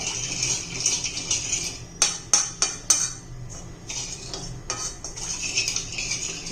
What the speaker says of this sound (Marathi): आता हे आपण चांगलं हलवून घ्यायचंय त्याच्या गुठळ्या नाही झाल्या पाहिजे